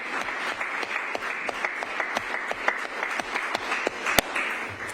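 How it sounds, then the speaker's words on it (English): Moderate applause at a Clerk's Community Resource Center ribbon-cutting, with individual hand claps distinct within a steady patter from a modest-sized audience, one loud close clap standing out near the end. "let's give them a round of applause."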